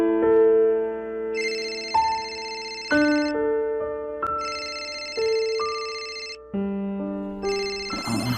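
A phone rings with an incoming call at night, a looping electronic ringtone melody of bright tonal notes repeating steadily and loudly, with no voices over it.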